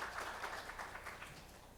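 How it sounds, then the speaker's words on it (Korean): Audience applause at a Korean tourism panel talk, broad steady clapping from a seated crowd welcoming a panelist, moderately loud and continuous throughout. "박수로 환영해 주십시오"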